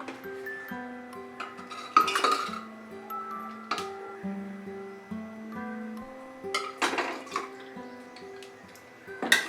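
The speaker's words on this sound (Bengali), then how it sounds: "সেই কারণে আমি এটাকে প্রেসারে দিয়ে দিচ্ছি। প্রেসার কুকারে দিয়ে আমরা রান্নাটা করব।" Mutton going into a pressure cooker for a Rajasthani mutton curry: sparse, close metallic clinks and knocks of pot and utensils, a few sharper clangs among quieter rattles, with a faint tonal hum underneath and no talk.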